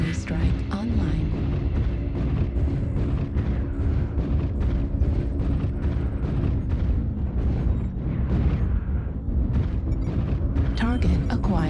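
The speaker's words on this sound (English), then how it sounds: "Artillery strike online." Artillery strike explosions in a video game, a dense continuous barrage of heavy booms and low rumbles rolling on without pause, with a radio-style voice speaking over the top.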